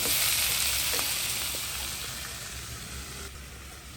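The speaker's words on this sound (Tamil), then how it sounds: "அப்படியே தக்காளியை வதங்கணும்" Tomatoes sauté with salt in a hot pan for a homemade chicken curry, giving a steady loud sizzle and frying hiss up close that fades slightly, with faint stirring.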